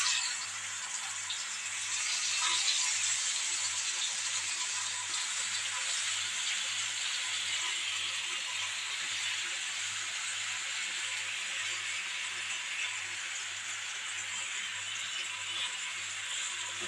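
Raw plantain masala slices fry on a hot dosa griddle over medium heat, giving a steady soft sizzle and hiss that runs continuously at moderate level, with a slight swell early on and no talking.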